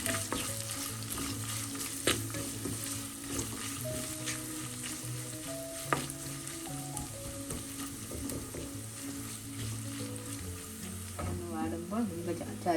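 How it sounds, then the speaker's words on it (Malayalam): Crushed garlic sizzling and being stirred in a hot pan for a black pomfret fish curry, with steady frying hiss and occasional spoon scrapes close by, no talking. "വെളുത്തുള്ളി ചതച്ച് ചേർക്കാം. നന്നായി ഒന്ന് വഴറ്റി കൊടുക്കാം."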